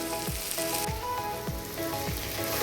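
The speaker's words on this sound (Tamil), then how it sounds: "வெங்காயம் பார்த்திங்கன்னா நல்லா வதங்கியிருக்கு. இன்னும் ஒரு 2 மினிட்ஸ் இருந்தால் போதும்." Onions sautéing with a little salt in a pan for Tamil kuzhi paniyaram, a steady close sizzle with soft stirring scrapes and low thumps recurring about every half second, no voices.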